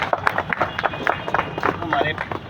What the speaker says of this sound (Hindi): कृपया तालियों से स्वागत किया जाए।